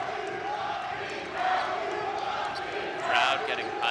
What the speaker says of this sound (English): Crowd getting hyped up. You can feel the energy in here.